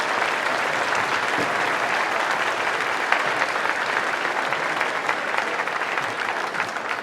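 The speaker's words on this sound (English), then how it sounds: "One round of applause for every wonderful student musician who's already performed for us this evening." An audience in a high school gymnasium applauds student musicians at an all-city band concert, steady dense clapping filling the whole stretch at even loudness.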